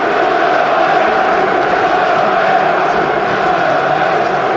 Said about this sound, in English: Good noise inside St James's Park